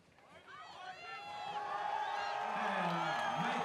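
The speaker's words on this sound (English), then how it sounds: "the crowd getting behind him as he straps himself in" A strongman event crowd swells into rising cheers and whoops for an athlete strapping in, growing louder and denser throughout with a commentator's voice over the din.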